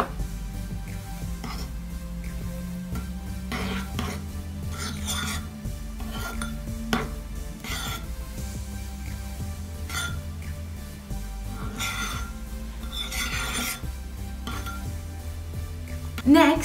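Blue glue is stirred in a bowl to make slime, giving soft, irregular scraping and sticky clicking sounds that repeat steadily throughout, fairly quiet and close.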